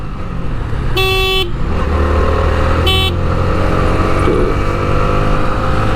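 A motorcycle engine drones steadily on an expressway with constant rumble, while a horn blares twice, loud and close, in short bursts.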